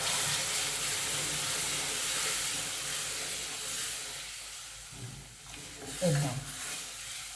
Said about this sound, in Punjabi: ਅਤੇ ਹੁਣ ਆਪਾਂ ਇਹਦੇ ਵਿੱਚ ਪਾਵਾਂਗੇ ਦੁੱਧ।